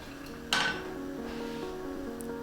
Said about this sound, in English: Now we're going to add Hing, also known as Asafoetida, maybe just a half teaspoon, and stir that till it's all well incorporated